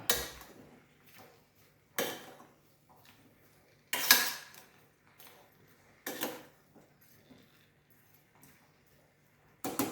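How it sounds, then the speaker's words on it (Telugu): Capsicum curry being stirred in a pan, a utensil scraping and clinking against the metal in several separate bursts about two seconds apart, close and fairly loud, with quiet gaps between and no talking. "ఒకసారి బాగా కలుపుకుందాం."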